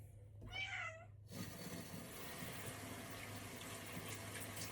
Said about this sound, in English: Normally, she's a tender little, docile little bathing cat.